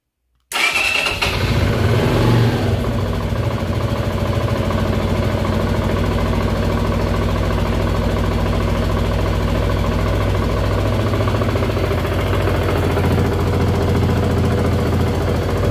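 A Zontes 125 motorcycle engine, just after its Bosch MSE6.0 ECU was flashed, cranks and catches. It then settles into a loud, steady idle close to the listener, with a small rise in revs partway through.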